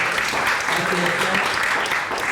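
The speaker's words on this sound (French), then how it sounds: "on peut aussi applaudir Marie-Vonne" An audience in a hall at a public forum applauds a speaker, a dense, steady wash of many hands clapping at once, close and sustained, with a faint voice beneath.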